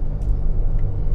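Steady low rumble of a car driving along a road in Greece, a continuous near engine and tire drone with no talk, brief and even in level.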